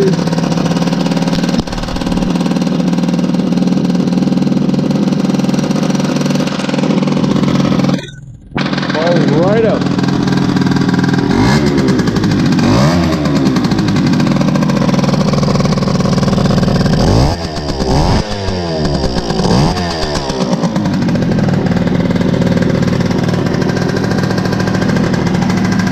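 Yamaha FS1 moped engine starting up and running, a loud steady two-stroke buzz that cuts out briefly, then catches again with revving rises and falls, close by.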